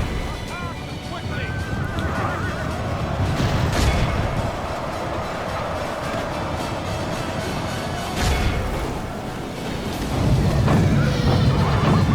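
Horses whinny amid a medieval cavalry battle in Medieval 2 Total War. Shrill neighs rise over a dense, continuous din of clashing arms and crowd noise, with a heavier surge near the end.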